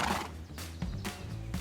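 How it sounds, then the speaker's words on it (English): A horse neighs and whinnies in a drawn-out, fairly close call, with faint hoof clip-clop beneath, heard alone without talk. "I'm on a horse."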